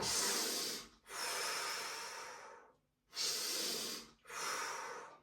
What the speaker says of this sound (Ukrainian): Пішли глибокий вдих.